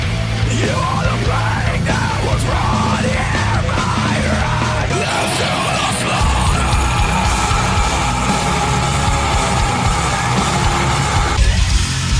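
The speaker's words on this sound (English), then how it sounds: "So you want to learn how to scream like this?" A fry scream, the heavy metal vocal technique, tears out as a loud, raspy, sustained yell from a single voice, broken into a few rough phrases with brief pauses between them.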